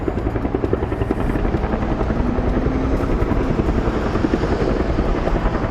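A firefighting helicopter battling a wildfire in British Columbia, Canada, sends out a steady, loud rotor chop with rapid rhythmic thumping that continues throughout, alone, with no voices.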